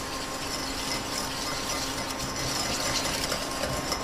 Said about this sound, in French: je vais tout simplement fouetter mes jaunes d'œufs avec le sucre